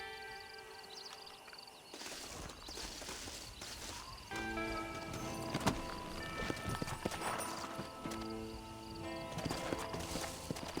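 Horse hooves clip-clop at a gallop in the Western video game Red Dead Redemption, a steady rhythmic pounding over ambient outdoor game sound and music, with a brief whinny and no speech.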